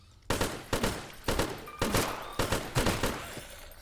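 Repeated bursts of assault rifle gunfire in the video game Zompiercer crack out in a fairly regular rhythm, about seven or eight loud volleys with brief gaps, no speech.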